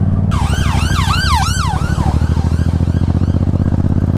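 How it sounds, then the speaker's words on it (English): A loud wailing ambulance siren sweeps up and down rapidly, close and passing, over a steady rumbling engine. "Ambulance."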